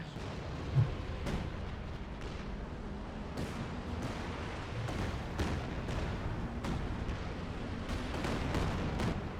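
A Katyusha rocket barrage rumbles through a battle in the video game Company of Heroes 2, with a dense low roar and a string of sharp impacts and blasts spaced every second or so, sustained and heavy.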